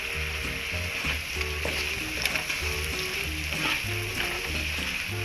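Fried bain fish (eel) tipped into hot spice paste for a coconut-milk bhuna sizzles steadily and loudly in the pan for several seconds, with faint stirring scrapes and no voices.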